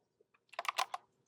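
Soft, rapid keystrokes on a computer keyboard, a couple of isolated taps followed by a quick cluster of clicks, close and quiet with no voices.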